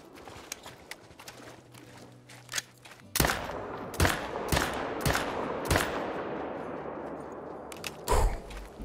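Gunfire from a .338 bolt-action sniper rifle in the hunting game Call of the Wild: a series of sharp, loud cracks spaced irregularly over a low, constant outdoor ambience.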